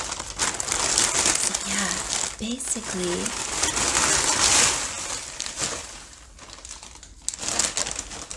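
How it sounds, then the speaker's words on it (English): Thick plastic bags are scrunched and crinkled close up in bursts of loud crackling, with a short spoken word in the middle, then quieter rustling toward the end. "it's three different densities or thicknesses of plastic bags, and we're gonna paint different happy sounds with those bags"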